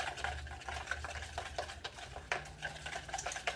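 An egg is whisked into low carb waffle batter in a bowl, a quick, close run of wet stirring scrapes and light clinks of utensil against the bowl, repeated in an uneven rhythm.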